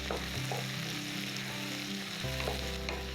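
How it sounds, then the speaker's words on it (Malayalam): Mushrooms and green chillies stirred and fried in a pan for a pepper fry, a steady close sizzle with low spoon-scrape thuds and stirring clatter running throughout, no voices. "പച്ചമുളക് ഇട്ട് കൊടുത്തിട്ട് നമുക്കൊന്ന് നന്നായിട്ട് ഇളക്കിയെടുക്കാം."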